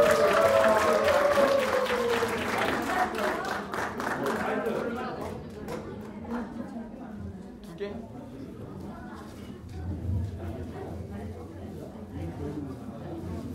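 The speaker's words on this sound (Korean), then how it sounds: "우리 4조 나오실 때 큰 박수 해주시기 바랍니다." Church retreat congregation applauding as a group comes forward for a skit, strong clapping at first that tapers into lighter, sustained applause mixed with crowd chatter and voices.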